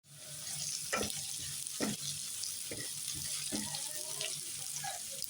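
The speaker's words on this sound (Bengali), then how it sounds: "পেস্ট একটু করে ভেজে নেব" Spice paste for chicken curry fries in a hot pan, a steady sizzle with a few sharp scrapes of stirring at intervals, close and moderately loud.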